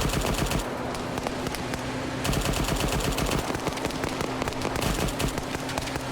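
Sustained rapid machine gun fire from a vehicle gunner in the military game Arma 3, a dense continuous rattle of shots that stays loud throughout with only a brief thinning in the middle.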